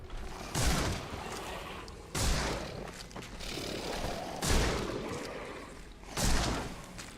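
Gunshots in The Sinking City: four heavy, booming shots land a couple of seconds apart, each a loud close blast that dies into a rumbling tail.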